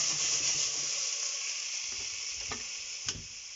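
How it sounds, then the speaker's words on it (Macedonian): Previously fried meat sizzles hard in a cooking pot, a close, continuous crackling hiss with a couple of sharp clinks from stirring toward the end. "Следно што правите е месото што го пржевме, го ставате во"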